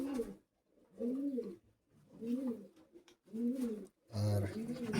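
Fancy high-flyer pigeons in a loft give repeated low, throaty coos in regular bursts with short pauses between them, close and clear, the last one louder and fuller.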